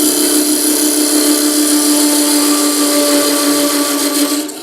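A wooden cryptex spins on a lathe while a tool is angled into it, making a steady loud whine with a high rotating hum that holds evenly throughout and eases off at the very end.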